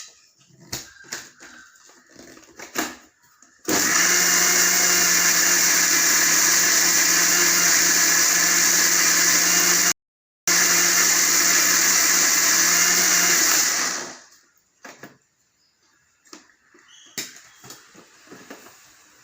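Mixer grinder blending tomatoes for tomato sauce, a loud, steady whirring roar running about ten seconds, briefly cut off, then resumed and winding down, with clattering handling sounds before and after.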